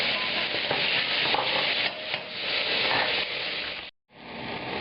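Coarsely chopped shallots and tomatoes hit a very hot pan and sizzle loudly and steadily as they are stirred, with a brief drop in the noise near the end before the frying resumes.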